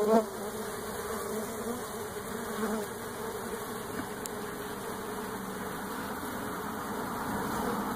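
A steady, continuous insect buzz of bees hums throughout, fairly close and unbroken, with a faint low rumble beneath.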